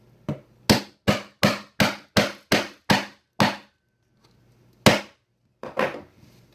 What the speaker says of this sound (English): So let's take our hammer.